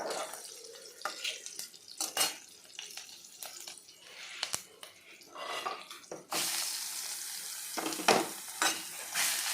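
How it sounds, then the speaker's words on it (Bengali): Boiled bamboo shoot fries in a pan, a wet sizzle with frequent spatula scrapes and stirring knocks, close by, swelling into a louder, steadier hiss toward the end. "তারপর আমি কিছুক্ষণ ভাজবো।"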